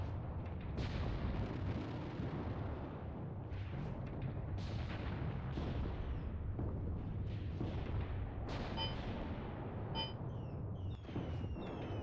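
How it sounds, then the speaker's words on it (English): Mortar rounds impacting in a battle, a series of muffled booms and bursts over a constant dense rumble of distant gunfire, with no talk. "here we can see already the mortars should be impacting"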